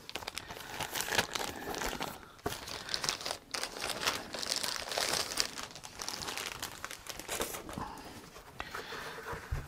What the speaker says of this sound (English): It's in plastic still. I've got to get it out.